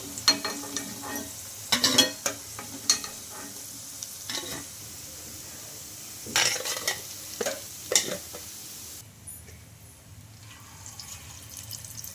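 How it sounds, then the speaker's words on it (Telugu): Peanut and rice fritters fry in a pan while being turned, with a soft background sizzle broken by scraping, clattering utensil strokes at irregular intervals, then quieter frying at the end. "ఇంకా ఒక సైడ్ కాలిన తర్వాత అయితే ఇంకొక సైడ్కి అయితే టర్న్ చేసుకుంటున్నానండి"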